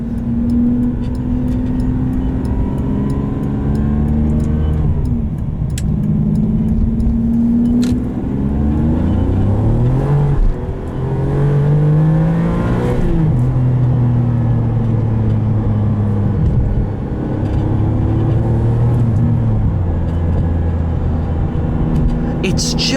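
A 2002 Ferrari 575M engine runs while driving, a loud sustained drone whose pitch rises and falls through several pulls and shifts, with someone talking over it throughout.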